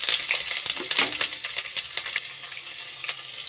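A medium-size onion frying in a pan with mustard seeds, a bright crackling sizzle with sharp popping spits, strongest at first and settling into a steady hiss.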